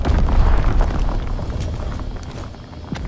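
Mortar explosions in Call of Duty: World War II multiplayer, a deep rumbling boom that rolls and slowly fades with a low, continuous roar.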